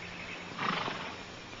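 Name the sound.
horse neighing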